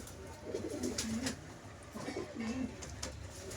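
Two pigeons coo in soft, rolling calls, each phrase ending in a low drawn-out note, heard close but quiet against a light background hiss.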